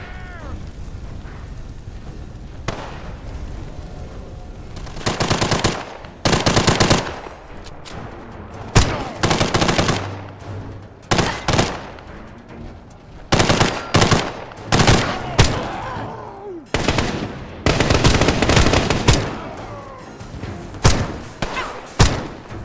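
Repeated bursts of .45 pistol fire from a nearly fully modified handgun in the game Life in the Ruins, loud close shots in irregular clusters with thuds between, no talking.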